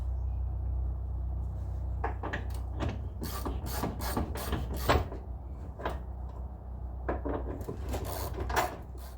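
A hand ratchet backs out bolts on the rear beam of a car during axle removal, bursts of rapid metallic clicking in uneven spurts, close up over a low background rumble.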